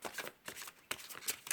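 Oracle cards are shuffled quietly in a few soft, papery riffling bursts at close range, with no talking.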